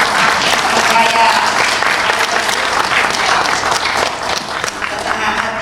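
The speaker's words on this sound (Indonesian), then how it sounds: "Tepuk tangannya." Loud, sustained applause from a crowd at an Indonesian political speech, dense clapping that gradually eases toward the end.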